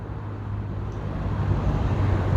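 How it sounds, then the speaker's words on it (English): Road traffic in Malta rumbles steadily in the background, a low, continuous hum of passing vehicles at moderate distance with no talk over it. "you can probably hear in the background, traffic behind me"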